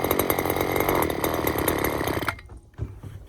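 A Stihl FS string trimmer's small two-stroke engine buzzes loudly and raggedly for about two seconds, then cuts out abruptly, leaving a brief sputter and a faint knock before quiet.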